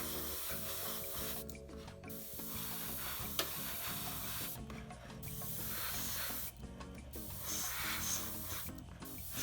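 An airbrush sprays primer in light, wet coats onto a 28mm Rubicon A15 Crusader tank model, giving a soft continuous hiss in several bursts with short pauses, over steady background music.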